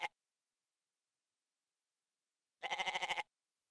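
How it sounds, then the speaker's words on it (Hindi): A goat bleats indoors in a domestic drama scene, one quick faint call at the start, then after a silent pause a clear, wavering, pulsed bleat lasting under a second, alone with no talking. "दुल्हन के सदके का बकरा है। ये कहाँ से आ गया?"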